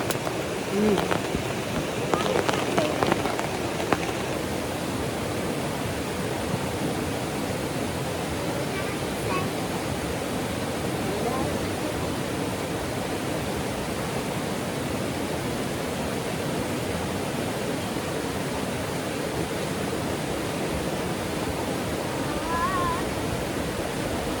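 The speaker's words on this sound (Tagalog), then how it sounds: "kaya lang ang lakas ng ulan" Heavy rain pours steadily at a campsite, a dense, loud hiss with no pauses, with a few brief sounds near the start.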